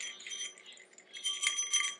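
Small decorative bells on a single Christmas stem from a store display jingle softly in a few light, bright shakes, quiet at first and then a little louder near the end, with no one talking.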